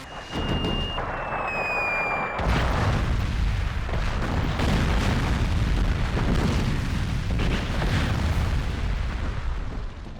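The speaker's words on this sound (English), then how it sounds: "we do get this funny clip of a cannonball blowing up a building" In Darkwatch, a cannonball blows up a building with a heavy explosion: tonal whines at first, then a big boom that rolls into a sustained, loud rumble of debris.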